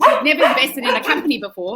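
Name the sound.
dog barking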